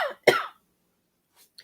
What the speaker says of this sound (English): excuse me if I cough because I feel one coming on